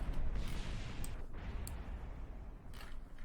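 A rocket crash explosion in the video game Kerbal Space Program, heard as a dull, rumbling burst with crackling, creaking debris noise that fades unevenly, fairly faint and without talk.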